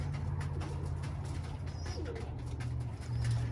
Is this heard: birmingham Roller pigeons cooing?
yes